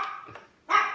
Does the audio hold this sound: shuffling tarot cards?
no